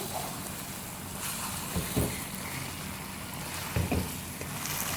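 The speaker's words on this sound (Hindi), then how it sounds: "मैंने अब थोड़ी सी भुनाई कर लेते हैं, 1 से 2 मिनट।" Chicken korma sizzles steadily in a pot while being fried for student biryani, a continuous close frying hiss with a few soft scraping stirs at intervals.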